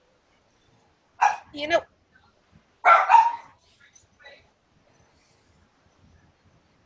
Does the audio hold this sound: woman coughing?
no